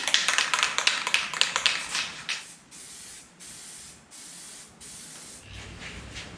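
Paint hisses from a spray can in a second coat on a car firewall. A rapid rattle of short bursts gives way to several steady, evenly spaced sprays with short pauses between them.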